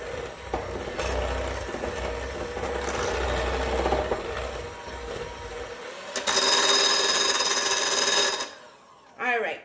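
An electric mixer whirs steadily through cupcake batter for several seconds, then a brief louder burst of mixing before it stops, heard close in a kitchen.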